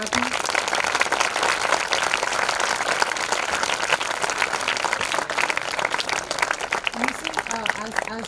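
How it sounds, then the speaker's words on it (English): Audience at the inaugural session of an international literature festival applauding Team Literati, sustained full-room clapping throughout, with an announcer speaking over it. "I would request you all to put your hands together for a big round of applause for Team Literati"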